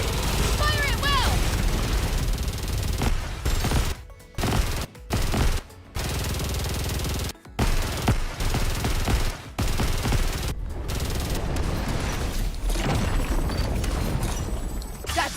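Loud, dense gunfire from the Nikke shooter game, rapid automatic bursts and heavy booms running almost nonstop with a few short breaks, with occasional character voices over it.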